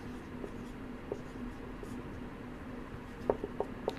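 Pen writing notes by hand on paper during a Class 9 physics lesson on Newton's first law, a steady soft scratching throughout with a few sharper taps near the end, under faint talk.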